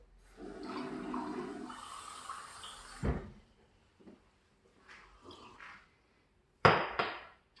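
Water running from a kitchen tap to fill a drink: a steady rush lasting about three seconds, followed by a few short clunks and brief knocks, with no voices.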